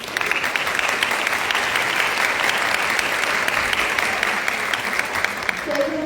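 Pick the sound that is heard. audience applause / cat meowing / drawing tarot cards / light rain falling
audience applause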